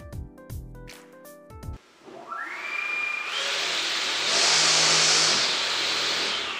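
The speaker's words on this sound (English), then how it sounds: "Second up is our 28-inch prop." A 28-inch drone propeller on an AXI8110 motor spins up on a test stand, a rising whine climbing into a loud, steady broadband whoosh that swells and holds near the end.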